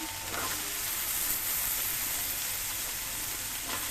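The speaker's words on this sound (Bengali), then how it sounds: "এখন দিয়ে দেবো কাঁঠালের বিচিগুলা" Jackfruit seeds sizzling steadily in a hot pan while pangas fish biryani is cooked, a continuous close frying hiss with no one talking.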